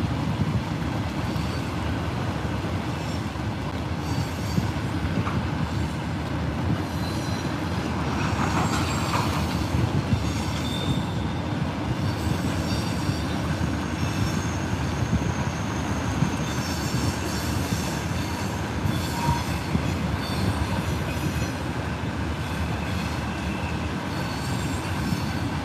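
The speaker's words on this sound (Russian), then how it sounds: "Сейчас поезд проедет." A passing train gives a continuous, even rumble of rolling wheels on rails with faint squeals, steady for about twenty-five seconds and heard without speech.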